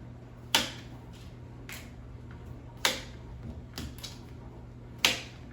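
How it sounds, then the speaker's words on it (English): Knife chopping the ends off a yellow summer squash on a cutting board, three sharp distinct cuts spaced a couple of seconds apart, close and fairly quiet over a steady low background hum. "all you need is just cut out the ends"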